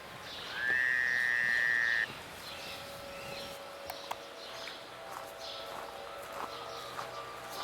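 Frogs chorus in a forest wetland bog, a soft layered croaking spread across the distance with a brief higher call standing out early on.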